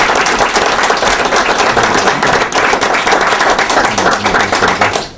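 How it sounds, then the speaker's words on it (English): School board of education meeting audience giving a round of applause, a dense, loud, sustained wash of many hands clapping that holds steady throughout before trailing off at the end. "Now it's appropriate to give a round of applause to Rhonda"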